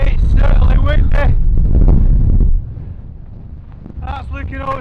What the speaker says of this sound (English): It's definitely windy now.